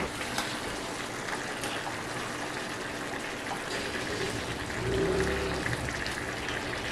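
Water poured into a pot of palak chicken with spinach, a steady close rushing and trickling that swells briefly near the end, with no talk over it.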